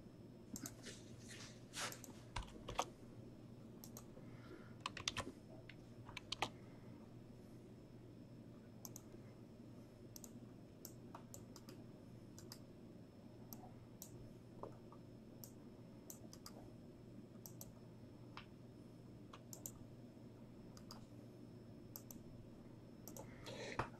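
Clicking of a computer keyboard as names are typed into a randomizer, a scattered run of light taps and clicks, fairly faint, over a steady low room hum.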